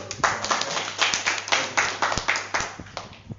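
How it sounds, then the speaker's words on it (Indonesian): A group claps along together in a steady, fairly even rhythm, with several sharp hand claps standing out near the front as the applause carries on throughout. "nah tepuk tangan dulu"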